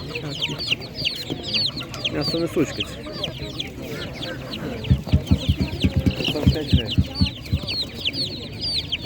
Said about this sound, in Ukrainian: Бачите, є голошеєчки.